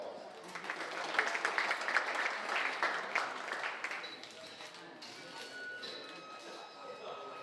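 Audience applause at a livestock show ring, a dense spread of clapping that peaks early and then thins and fades, with faint speech mixed in near the end.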